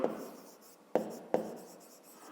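Pen or chalk writing out a math solution for a fifth-grade area and volume problem, a steady close scratchy stroke with three sharp taps where new strokes begin, no voices.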